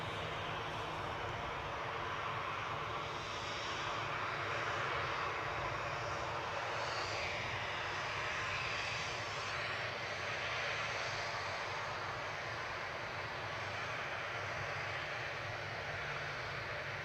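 Airliner jet engines roar steadily at Newcastle International Airport, a broad, continuous rush of sound at a moderate distance that holds at an even level throughout, with no talking.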